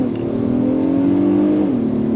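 Engine note of an Acura MDX Advance SUV in sport mode, piped through the cabin speakers under throttle, a steady loud droning hum with a rising and then falling pitch, heard alone without talk.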